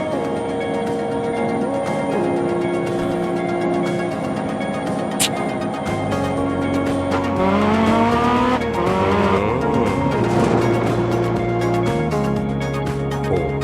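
Rally car in DiRT Rally 2.0 drives with a steady, loud engine drone and shifting revs, with tires squealing and skidding through the middle of the run.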